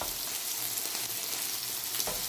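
Chicken pieces frying in a pan, both sides browned, giving a dense, steady crackling sizzle close by with occasional brief pops.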